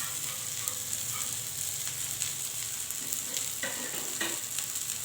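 Chana dal kababs fry in ghee with a steady, close sizzle running throughout, along with a few soft scraping stirs near the end; no one speaks.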